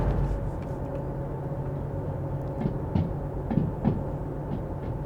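Train in the Derail Valley simulator slowing on its rails, a low rumbling drone with faint rhythmic clacks and thumps from the wheels, steady and moderately loud, no voices.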